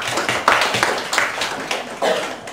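Scattered clapping from a small classroom group after a media project pitch, a handful of hands at close range tapping in loose, uneven bursts for a few seconds.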